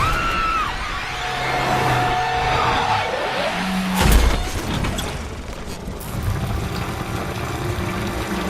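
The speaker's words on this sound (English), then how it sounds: "She freaks out and loses control of the vehicle." A car skids out of control on a road in a film scene, a tyre screech rising over engine rumble before a heavy thud midway, followed by lingering rumbling noise.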